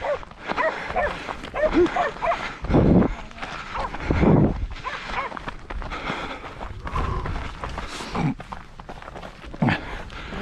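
Several dogs bark in short bursts at a moderate distance during a 17 km cross-country run near Petreștii de Mijloc, with outdoor background noise and a few brief human sounds between barks.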